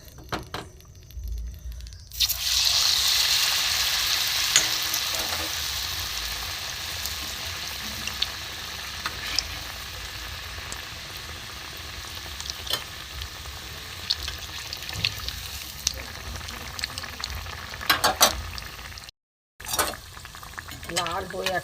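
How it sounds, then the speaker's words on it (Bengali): Soybean chops coated in gram flour batter deep-frying in hot oil, a close, steady crackling sizzle that starts after a quiet moment and runs on with small pops and a brief break near the end. "কড়া করে ভাজছি।"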